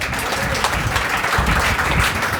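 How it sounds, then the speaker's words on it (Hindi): Audience applause at a poetry recital during an academy award ceremony, a steady wash of many hands clapping together at moderate loudness, with little voice over it. "थोड़ी बहुत ऊर्जा अगर आप में बची हो तो तालियां जरूर बजाते रहिएगा बीच बीच में"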